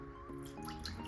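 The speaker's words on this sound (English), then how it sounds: "pour a cup of water in this pot" Water poured from a cup into a cooking pot as the first step of a homemade night cream, a short close trickle and drip lasting about a second over a steady low hum.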